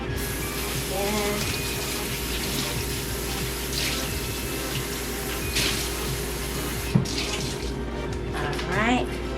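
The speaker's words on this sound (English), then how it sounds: "I'm gonna wet the rag again." Water runs from a tap as a rag is wetted under it, a steady close splashing flow that lasts throughout, with a few brief knocks and faint handling sounds.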